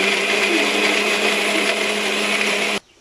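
A kitchen blender whirs loudly and steadily, blending milk and sugar into a milk lassi, then cuts off abruptly just before the end.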